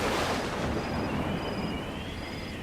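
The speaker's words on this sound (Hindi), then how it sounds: "बाहर अभी भी हवा चल रही है।" Wind blows outside at night, a steady broadband rush with faint high whistling tones, moderately quiet and unbroken.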